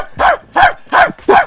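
A man imitates a dog barking with four loud, evenly spaced woof-like barks, close up and alone.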